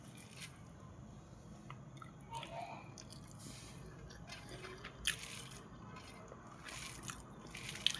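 Close, soft, wet chewing and squishing while eating fried red amaranth greens tempered with garlic, nigella seeds and dried chilli, mixed with rice by hand. The sounds are quiet and irregular over a low room hum.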